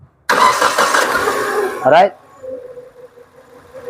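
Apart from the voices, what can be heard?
Naza Citra car engine starting and idling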